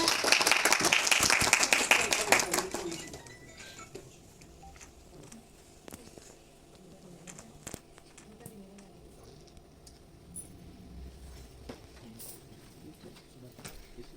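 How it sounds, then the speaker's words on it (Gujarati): Audience applause at an interview event during a memento presentation, a dense burst of clapping for about three seconds that then dies away into quiet room noise with scattered faint sounds. "તાળીઓ થઈ ગઈ જોરદાર"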